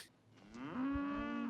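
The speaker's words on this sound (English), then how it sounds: "The cows are everywhere." A single cow moos in a long, loud, drawn-out low bellow from a film soundtrack, heard on its own with no talk over it.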